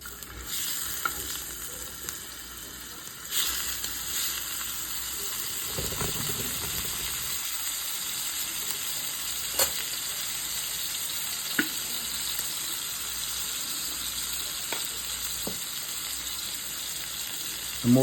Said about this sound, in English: You can hear our steak cooking.